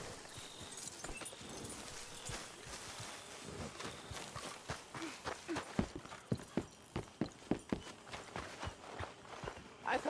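Horse hooves clip-clopping at a walk in Red Dead Redemption 2, rhythmic close thuds that grow more distinct and regular in the second half, with faint ambient game sound underneath.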